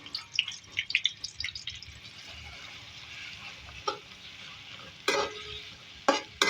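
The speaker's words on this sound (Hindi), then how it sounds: "प्याज हमारी फ्राई हो रही है नाजरीन" Three medium chopped onions fry in a pan for a potato and chicken salan, a steady hiss under scattered clinks of a spoon stirring, with a few louder scraping bursts near the end.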